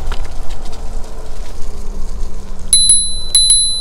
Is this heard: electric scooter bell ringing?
yes